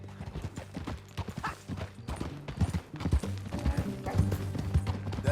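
Rhythmic clip-clop of horse hooves in Red Dead Redemption 2 at a steady pace, fairly close, layered over a busy background of other game sounds.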